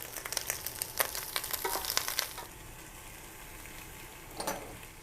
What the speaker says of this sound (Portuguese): Refogamos a cebola em fogo médio, mexendo de vez em quando, até ela ficar transparente.